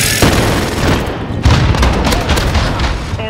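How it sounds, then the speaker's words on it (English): A grenade explodes in a Call of Duty: Modern Warfare (2019) firefight on PS5: a deep boom hits about a second and a half in, loud and close, amid a continuous din of rapid gunfire and blasts. "Throw a grenade."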